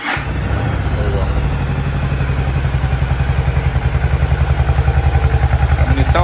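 Yamaha V-Star 1100 V-twin motorcycle idling roughly with a carburetor problem, a loud, close, uneven thumping and clattering throb, with someone speaking over it.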